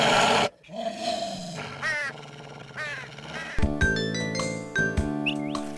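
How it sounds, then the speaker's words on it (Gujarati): A cartoon dog barks and growls at a cawing crow in a series of short calls, followed by bright tinkling musical tones, with no talking. "એ કાગડા પર ભસવા લાગ્યો"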